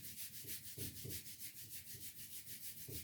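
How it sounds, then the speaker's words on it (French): Hands rub briskly together during hand washing, a close, quiet series of rhythmic swishing strokes repeating roughly every quarter second, with no talk. "le dos de la main avec le pouce à l'intérieur pour bien frotter les deux surfaces de la main"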